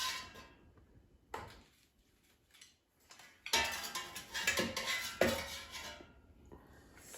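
Cooked chicken thighs, air-fried straight from frozen, are lifted out of the air fryer with a few sharp metallic clatters and scrapes of the basket and utensils, close and unaccompanied by talk, separated by quiet pauses.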